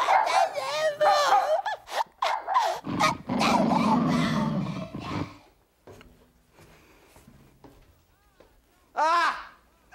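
A dog growls and barks amid frantic French shouting and screaming, the commotion loud at first and then dying down to quieter sounds, with a final yelp near the end.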